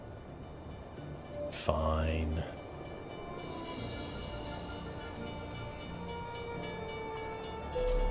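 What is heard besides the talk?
train passing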